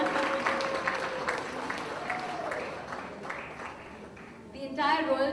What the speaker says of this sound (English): A big round of applause for Lisa.